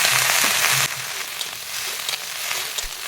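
Salted paneer pieces frying in a pan for a Bengali paneer cauliflower dish, a steady close sizzle that drops slightly in intensity partway through, with faint stirring sounds.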